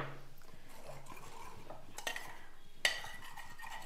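Cooked dal lentils mashed and stirred in a pot, a soft continuous scraping and stirring with a couple of sharper clinks of a utensil against the metal rim.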